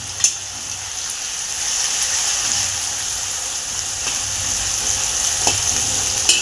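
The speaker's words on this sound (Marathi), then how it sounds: "2 मोठे कांदे बारीक चिरून घेतलेले आहेत, ते घालून घेणार आहे" Two large, finely chopped onions fry in a hot pan for pav bhaji, giving a steady, even sizzle throughout with a few light scrapes and knocks of stirring.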